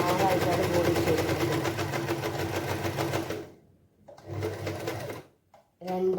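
A sewing machine runs in fast, rhythmic bursts while stitching a child's dress from an old churidar, loud and close. It stops briefly, then starts again in short runs, with a voice talking in between.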